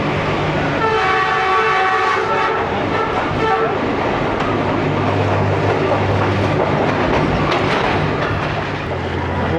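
The 122DN Ravi Express rolls from Lahore toward Nankana Sahib. Its horn sounds in blasts early on over the loud, steady rumble and clatter of the carriages moving along the track.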